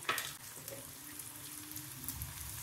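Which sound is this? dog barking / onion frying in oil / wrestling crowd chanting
onion frying in oil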